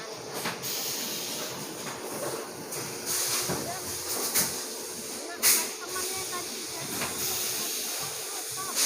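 Steady machinery hiss and rumble fill a noisy bottle-making and bottle-filling factory floor, with blow-molding equipment running continuously and occasional sharp hissing bursts, close and fairly loud throughout.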